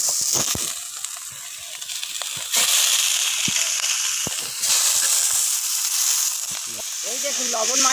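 Salted cabbage dropped into hot oil sizzles loudly and steadily in a pan, with some crackling and stirring scrapes throughout.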